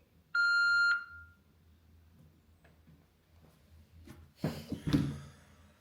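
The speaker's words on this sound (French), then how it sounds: "Merci de laisser un message après le bip." An answering machine sounds a single loud electronic beep tone lasting about half a second, followed by quiet room noise and a burst of handling clatter.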